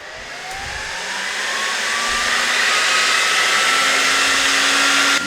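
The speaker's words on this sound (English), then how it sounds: "We have active cooling there on the power supply." Small cooling fans on the power supply of a GOYOJO AC-2 portable oil-free PCP air compressor, a steady noisy whir that swells slightly in level and holds constant throughout, with no talk.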